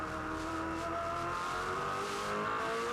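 A V8 Supercar race car at Oran Park Raceway in 2003 runs steadily through third gear into turn two, its engine note a sustained, rising whine with faint tyre noise.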